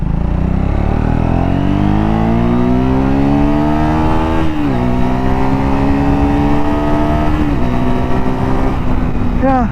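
A 2026 Triumph Speed 350 motorcycle engine while riding, loud and close, rising in pitch as it accelerates, dropping briefly at gear changes, then climbing again under wind noise.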